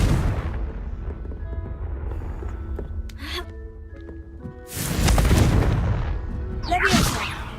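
Repeated Confringo fire-blast spell casts in Hogwarts Legacy, heavy booming bursts with broad rumbling roar, one around midway and another near the end over a steady game ambience.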